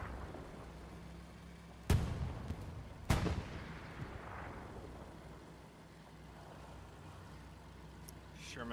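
Two sharp, loud shell impacts on a Sherman tank in a tank video game, each a sudden boom with a short rumbling decay, set against steady engine-like background noise.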